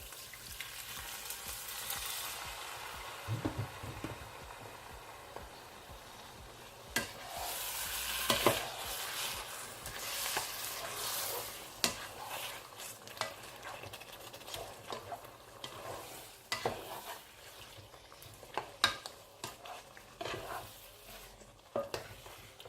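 Egusi pistachio sauce simmers softly in a pot while a utensil stirs and scrapes through it, with quiet bubbling and sizzling, irregular clicks and knocks against the pot, fairly faint and close, no talking.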